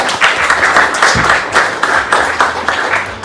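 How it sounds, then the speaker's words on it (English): Audience applause for a book proofreader at a book event, a steady wash of many hands clapping at moderate loudness, fairly close, with faint murmuring underneath. "So give her a clap."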